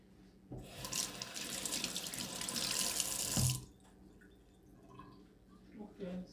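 A kitchen tap runs into the sink during rinsing, a loud rushing stream for about three seconds that stops abruptly, then faint drips and light clinks follow.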